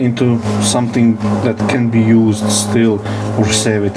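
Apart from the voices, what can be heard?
No everyday noises stand out.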